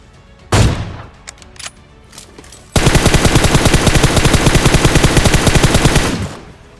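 Gunfire in the mobile game PUBG Mobile: one loud shot and some scattered bangs, then a long, rapid burst of automatic fire lasting several seconds, loud and close.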